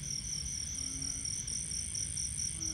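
Frog croaking at night in a cemetery, a steady chorus of low repeated croaks under a continuous high insect-like drone, moderately loud and without voices.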